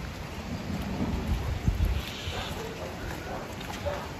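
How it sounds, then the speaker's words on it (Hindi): Rain falling steadily outdoors during a road trip near Rishikesh, with a low rumble of thunder swelling briefly midway; the downpour stays as a constant wash in the background. "बारिश वैसे अब कम हो रही है।"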